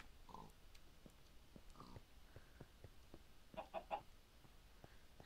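Video game chicken clucking in short separate bursts, a few single clucks early and then a quick cluster of three louder clucks, faint and alone with no talk.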